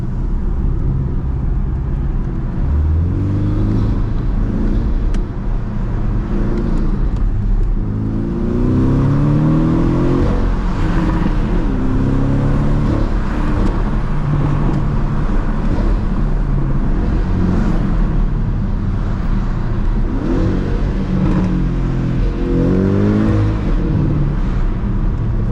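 A 2022 Porsche 718 Cayman base with PDK and a variable exhaust heard from inside with the windows down, its inline-four engine droning and revving steadily through rising and falling gears, loud and continuous throughout.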